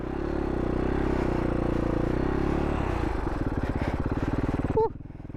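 A Husaberg FS570 supermoto motorcycle churns through loose sand, its single-cylinder engine holding a steady loud drone before dropping into a rapid, choppy idle-like putter, with a brief squeak near the end.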